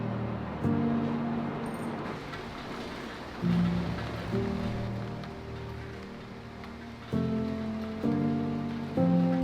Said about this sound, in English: The rain is really, really heavy, and hopefully it'll be done in 10 minutes.